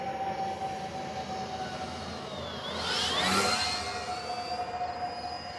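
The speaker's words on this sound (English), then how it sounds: "That jet comes through low all the time." A jet aircraft passes low overhead at an RC flying field, its roar swelling into a loud whooshing peak midway and then easing off over a steady background drone.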